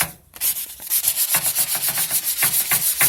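Wooden trim is sanded by hand in quick, regular back-and-forth strokes, a rasping scrub repeating close up after a brief pause at the start.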